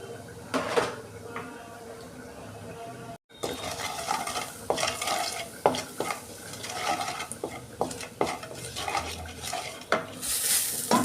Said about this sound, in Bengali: আর তেলের মধ্যে কালো জিরে দিচ্ছি হলুদ গুঁড়ো অল্প লঙ্কা গুঁড়ো অল্প দিচ্ছি